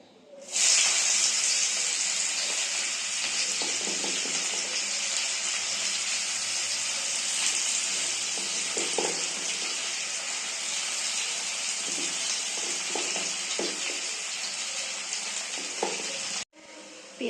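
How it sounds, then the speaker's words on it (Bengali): Onion frying in oil with bay leaf and whole cumin sizzles steadily and loudly for about sixteen seconds, a dense continuous hiss with occasional spoon-stirring clicks, then cuts off abruptly near the end. "পেঁয়াজটা আমার ভাজা হয়ে গেছে"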